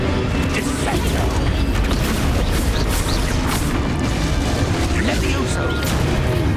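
Descendo slam spell cast in the Hogwarts Legacy video game, a dense continuous rumble of booms and crashing impacts, loud and sustained with layered game effects and voice underneath.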